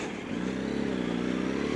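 A Yamaha R1 motorcycle rides along at a steady speed, its engine drone loud and continuous with heavy wind rush from start to finish, and no talk.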